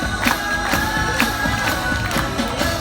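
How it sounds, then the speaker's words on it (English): Audience applause rings out at an agricultural sheep show as a mule ewe, Britain's most common sheep breed, is presented. The clapping is a steady crowd patter with a faint recurring pulse, running throughout at moderate volume. "So let's have a big clap for Mark the mule."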